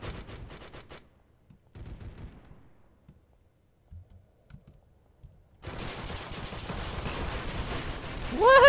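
Shotgun fire in a Roblox shooter game, bursts of sharp rapid blasts at the start, then quieter scattered shots, followed by a dense continuous barrage of loud gunfire building toward the end.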